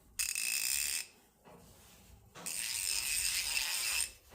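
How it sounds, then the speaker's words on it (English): A Craftsman V-series socket ratchet clicks in two bursts of rapid, fine metallic ratcheting, close and fairly quiet, with a short pause between. "We will be further demonstrating or reviewing this ratchet."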